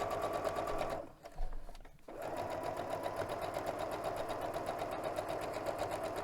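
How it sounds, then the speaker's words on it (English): A sewing machine stitches a pillow case in a steady, rapid mechanical whir, pausing briefly near the start before running on evenly and close. "And sewing down."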